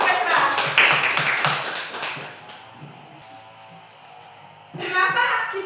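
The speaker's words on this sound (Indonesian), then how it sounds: "tepuk tangan untuk Petra" Schoolchildren in a classroom clapping for a classmate during a teaching simulation, a burst of rhythmic hand claps that fades into chatter and then resumes briefly at the end.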